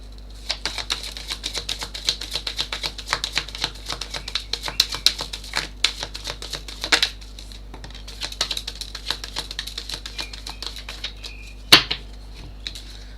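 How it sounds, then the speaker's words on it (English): Tarot cards being shuffled, a long run of quick, dry papery riffles and taps that come in clustered bursts, close and fairly quiet over a low steady hum, with no talking. "I want one more shuffle"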